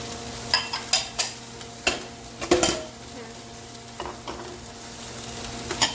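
Zucchini sautés in a pan for minestrone, with a run of spoon clacks and scrapes against the pan over a low, steady sizzle that settles into quieter frying.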